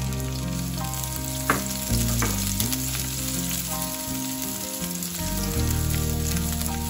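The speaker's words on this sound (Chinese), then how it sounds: "切好的葱姜，现在下锅。" Chopped scallion and ginger hit a hot wok and fry with a loud, steady sizzle, stirred now and then, continuing throughout with no talking.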